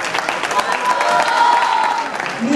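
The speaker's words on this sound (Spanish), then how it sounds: "un fuerte aplauso para Darío" Audience applause at a film festival ceremony fills the space, a steady dense patter of many hands clapping with some crowd voices mixed in.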